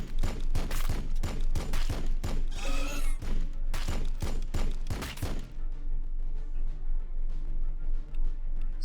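Units fire on the enemy in Warhammer 40K Battlesector, a rapid fusillade of loud, close shots in quick bursts for about five seconds, then fading into a lower rumbling battle ambience.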